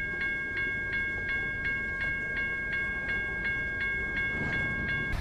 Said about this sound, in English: The train is never ending.